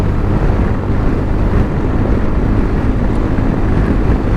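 Heavy wind buffeting while riding a 2025 Honda ADV 350 scooter at speed on a dual carriageway, a loud continuous roar and rumble against the microphone with no break.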